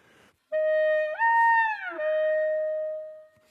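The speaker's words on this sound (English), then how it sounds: "if we were to glissando through those notes" Clarinet glissando sliding through notes, a single clear reedy tone that bends upward smoothly, holds, then slides back down before sustaining and fading, played alone with no talk.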